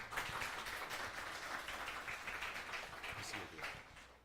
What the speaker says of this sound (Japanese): 拍手でね、今日はお迎えしてみましょう。